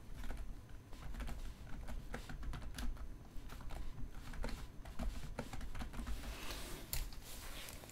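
Text being typed on a computer keyboard, a close, steady patter of key clicks with a few sharper taps, continuous throughout.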